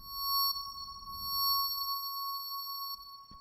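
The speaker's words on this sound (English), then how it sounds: "A little piercing, just a little much, but does sound like a pad." A two-voice synthesizer pad patch with no pitch cutoff, a steady sustained tone with a bright, slightly piercing upper layer holding evenly throughout, ending with a brief low thump.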